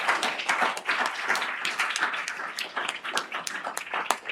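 Audience at an administrative law symposium applauding the speakers, a steady patter of many hands clapping at moderate level, fairly distant and continuous without a break.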